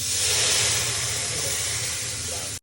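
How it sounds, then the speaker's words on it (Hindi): A loud, steady sizzling hiss as water is poured into a hot spice tempering fills the clip continuously before cutting off abruptly near the end. "मम्मी इसमें पानी डाल रहे हैं"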